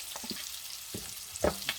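Bacon frying in a pan, a soft steady crackle with a few sharper pops and spits standing out over the brief stretch.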